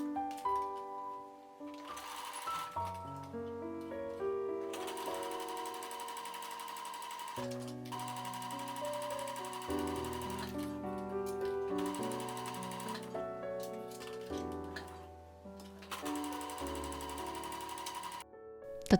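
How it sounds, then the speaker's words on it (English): A sewing machine stitches elastic into a skirt waistband in close, rapid mechanical runs that start and stop several times, with short pauses between bursts. "Use a based stitch to secure the elastic within the waistband. While sewing, stretch the elastic to match the fabric length."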